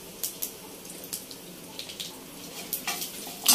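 Mustard seeds and curry leaves crackling in hot oil for a Telugu ridge gourd chutney, giving scattered sharp pops and sizzles at close range, irregular and fairly quiet, with a louder burst at the end.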